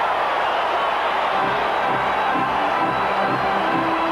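A crowd fills a baseball stadium during a 1978 Royals playoff game, a dense, steady roar that sits at an even level throughout with no clear cheers rising out of it.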